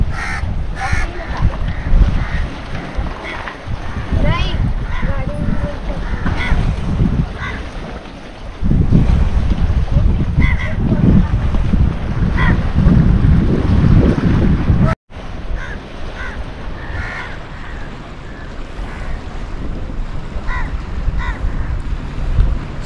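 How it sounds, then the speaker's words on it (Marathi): Strong wind buffets the microphone continuously at a roadside spot in Panvel where cars are parked in reverse, a loud low rumble that surges and holds, briefly cuts out, then resumes with distant bird calls faintly above. "वारा खूप आहे"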